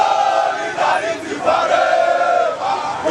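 A large crowd outdoors at a Catholic Church pastoral centre in Abakaliki, a sustained loud roar of many voices shouting together with rising and falling cries as police fire tear gas nearby.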